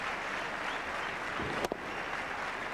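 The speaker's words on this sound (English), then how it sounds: "Now the applause starts." Cricket crowd at the Kanpur stadium during a 2002 India vs England one-day international, a steady wash of applause and crowd noise filling the stands, broken by one brief sharp sound near the middle.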